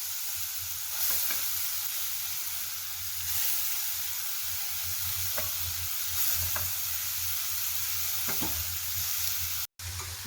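Grated raw papaya fries in hot ghee with a soft, steady sizzle and hiss, broken now and then by faint stirring scrapes, close and fairly quiet, with no voices.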